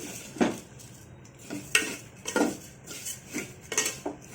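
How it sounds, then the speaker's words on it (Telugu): Vermicelli (semiya) roasting in a pan, stirred with a metal spoon in repeated scraping strokes and clinks against the pan roughly every half second to second, close and moderately loud with no talk. "సేమియా ఎర్రగా వేగాలండి, బాగా ఎర్రగా వేయించుకోవాలి"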